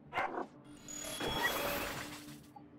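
A dog in the game Underrail gives a couple of short sharp barks near the start, followed by mechanical clicking and rustling game noise, fairly quiet overall.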